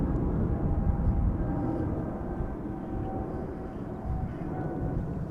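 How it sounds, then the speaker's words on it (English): An airliner departs northward from Amsterdam Schiphol Airport on a breezy day, its engines giving a steady, broad, distant roar that fills the whole clip without any voices. "Another airplane departing to the north."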